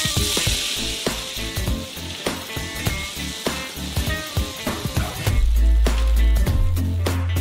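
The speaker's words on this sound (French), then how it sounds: "Il faut remuer tout le temps pour que les cacahuètes grillent uniformément." Raw shelled peanuts roasting in a pot over a gas flame, stirred constantly, give a steady dry rattling scrape with repeated clicks and soft sizzling, close and fairly loud, with a deeper rumble toward the end.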